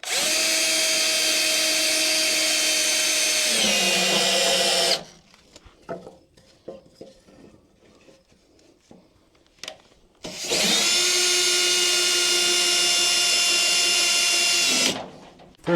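A Wood-Mizer LT15 sawmill cuts through a spruce log in two loud, steady high-pitched whining passes, separated by a quieter gap of scattered clunks and handling noises.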